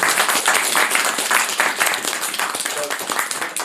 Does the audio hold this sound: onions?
no